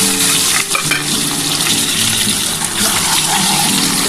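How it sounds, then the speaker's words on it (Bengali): Eggs fry lightly in hot oil for an egg curry with spring onion and capsicum, a loud, steady broadband sizzle with crackling spatters running throughout, close up and without talk. "আর এদিকে আমার তেল গরম হয়ে গেছে বন্ধুরা, আমি কিন্তু এবার হালকা করে ভেজে নিচ্ছি"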